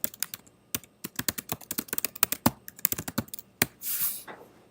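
Rapid, irregular clicking of keys on a computer keyboard, close and clear with no voices, ending in a short burst of broader rustling noise.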